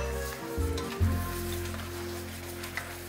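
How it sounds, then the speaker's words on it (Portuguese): Cognac poured into a hot pan with chicken sizzles, a steady frying hiss with a brief surge as the liquid hits, alongside a low hum from the kitchen. "Agora eu vou adicionar o conhaque nessa panela aqui, né?"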